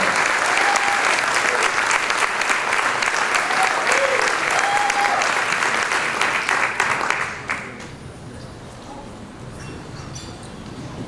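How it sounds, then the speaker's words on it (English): An audience gives sustained applause at a Father of the Year award ceremony to honor a 12th-grade essayist. The dense, steady clapping fills the hall, then drops away sharply after about seven seconds, leaving a quieter room. "Let's give him a big round of applause."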